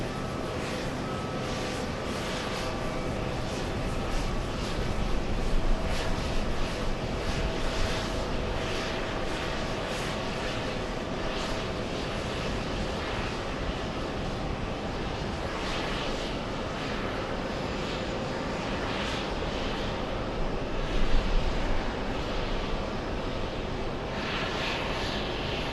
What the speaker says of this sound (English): Big Singapore, the Singaporean 777 pushing